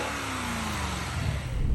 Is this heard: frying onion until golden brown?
no